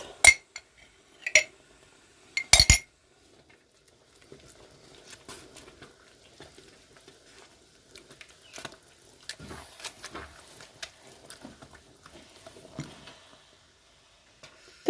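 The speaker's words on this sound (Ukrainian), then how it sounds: "я кладу сюди політрову банку" A half-liter glass jar is set down in a home kitchen during Transcarpathian mushroom pâté preparation, giving a few sharp, bright clinks near the start before quieter scattered clatter.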